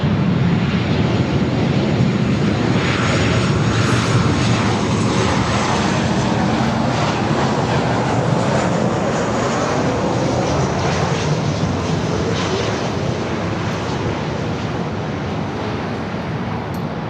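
Southwest Boeing 737-700 arriving at LAX from Oakland, a loud, close jet roar that stays full and steady before tapering slightly near the end, with no voices.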